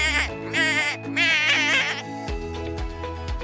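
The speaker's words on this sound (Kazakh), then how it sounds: "Дұрыс, ешкі мә деп маңырайды." A goat bleats two or three drawn-out, wavering calls up close, followed by a few softer thumps and knocks, in a children's lesson on farm animals.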